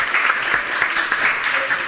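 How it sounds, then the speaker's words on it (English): Sustained audience applause at a food conference talk, dense steady clapping from a crowd throughout with no speech over it. "Give him a massive round of applause for being very brave."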